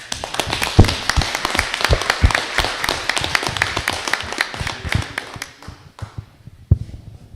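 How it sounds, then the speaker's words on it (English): A round of applause from the audience at a mayor and council meeting, dense steady clapping from many hands that thins out and fades to a few last claps near the end. "Another round of applause."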